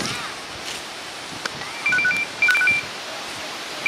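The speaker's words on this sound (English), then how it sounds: "Oh, getting a phone call." An incoming call sounds on a mobile phone outdoors in tornado aftermath, as two short bursts of faint electronic beeping over steady wind noise.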